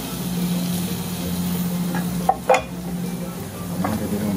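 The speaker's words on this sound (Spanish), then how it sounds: "puse el pedacito de grasa ahí mismo para que sea él el que vaya sazonando nuestra sartén de hierro colado" A piece of steak fat frying in a cast iron skillet, a steady close sizzle over a low hum, broken by a few sharp metallic scrapes and clinks around the middle.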